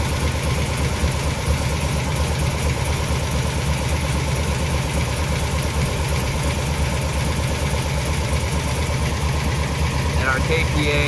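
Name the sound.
car engine idling with Holley Sniper 2 fuel injection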